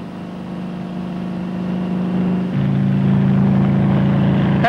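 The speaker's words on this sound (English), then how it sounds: "This helicopter is landing for loading at D site" A helicopter descends to land at a remote desert test site, its steady low rotor and engine drone loud and continuous, shifting slightly in pitch midway, with no voices.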